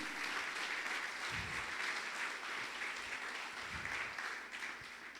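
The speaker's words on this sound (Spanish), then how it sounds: "Dale un aplauso fuerte a Jesús." Congregation applause during an evangelical church service, a dense wash of clapping at moderate distance lasting several seconds without speech.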